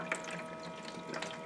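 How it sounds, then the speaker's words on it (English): Igloo ICE117-SS ice maker pumping water, a faint mechanical whir with soft trickling and light clicks running steadily at low level, heard alone. "you can hear it's pumping water across"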